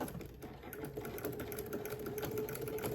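Sewing machine top stitching a large tote bag made from dish drying mats, set to a 3.5 stitch length, running steadily and close with a continuous whirring hum.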